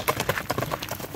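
Hooves of a fast horse for sale at the Bazar-Korgon horse market clip-clop in a quick, even rhythm, moderately close and somewhat faint.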